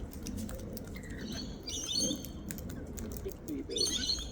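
Wild birds gather to feed outdoors, giving scattered high chirps and tweets throughout over a steady background rustle and patter of movement.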